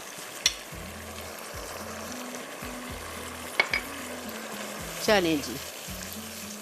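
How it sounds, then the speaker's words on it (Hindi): Fish pieces double-fried in hot oil for Schezwan sticky fish, a steady close sizzle with a few sharp spatters and clinks, under faint background talk. "फ़िश को लाजमी आपको डबल फ्राई करना है"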